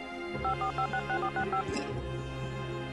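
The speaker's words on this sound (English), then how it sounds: "They let me use their phone and I called the police." A telephone keypad is dialed in a story, a quick even sequence of about eight clear tones beeping one after another, followed by a faint line hum.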